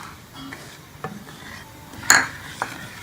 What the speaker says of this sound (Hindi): तो ये डाल के इन सारी चीज़ों को जो है वो दूध में अच्छी तरह से हल कर लेंगे